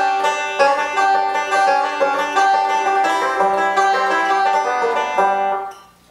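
Banjo playing the kickoff to a song, a steady stream of bright picked notes rolling along with ringing strings, close and clear with no voices, fading at the end.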